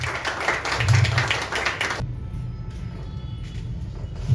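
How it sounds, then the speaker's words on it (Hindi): An audience at an open-mic poetry and storytelling event claps loudly for about two seconds, then the clapping cuts off, leaving quiet room tone with a low hum. "जोरदार तालियों के साथ।"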